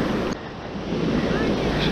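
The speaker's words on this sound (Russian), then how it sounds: "От берега отошли, там уже не такие большие волны." Sea waves wash and churn loudly around a kayak off a Turkish coast, a continuous rushing surf mixed with gusty wind buffeting the microphone.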